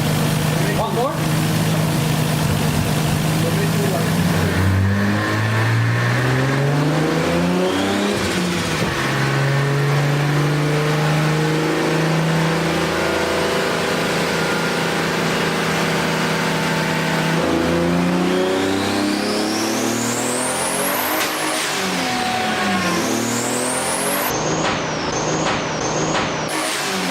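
A 2JZ-swapped BMW M3 revs hard on a dyno, its engine pitch climbing and falling through repeated loud pulls, with a sudden pop as an intercooler pipe blows near the end; voices talk in the background.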